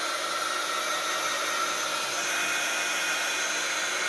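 A handheld dryer blows a continuous, steady whoosh with a high whine while drying wet ink on an altered paper envelope, close and loud throughout with no pauses or voices.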